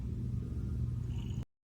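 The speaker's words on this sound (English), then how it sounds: "I can hear him purring." A cat's low, steady purring rumble up close, continuous for a second and a half before cutting off abruptly.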